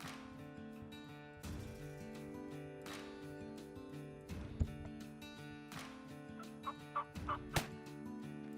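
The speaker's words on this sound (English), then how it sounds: "we joined Bill and cameraman Chris Porter chasing Rio Grande turkeys in West Texas" A Rio Grande wild turkey gobbles in a West Texas field, faint and distant, with several quick gobbles clustered late in the clip over a steady, tonal background.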